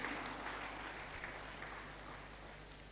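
An audience applauds at the official draw ceremony of a women's football tournament, a steady, even wash of clapping heard faintly from a distance and continuing without a break.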